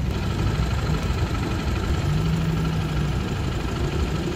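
Motorcycle engine running steadily while riding on a city street in Mérida, Mexico, a continuous low rumble with wind noise and no talk.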